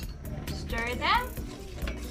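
A spoon stirs tom yum goong in a pot, with soft clinks and scrapes against the metal, close by and fairly quiet, plus a brief brighter metallic squeak midway.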